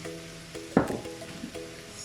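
Cumin seeds (jeera) dropped into a pan with pre-cooked potatoes for samoosa filling: one sharp sizzling burst flares up, then settles into a quieter crackle under a low cooking hum.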